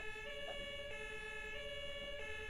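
An emergency vehicle siren sounds steadily and faintly in the distance, a held wailing tone over a low traffic rumble with no talking.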